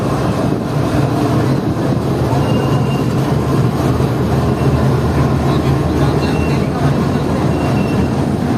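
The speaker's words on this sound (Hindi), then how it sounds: "तो ये पीछे आप देख सकते हैं कि पाकिस्तान एक्सप्रेस जा रही है" The Pakistan Express passes by near Karachi in extreme heat, a loud, continuous rumble of rail wheels and carriages close at hand with faint squealing, while a voice talks over it.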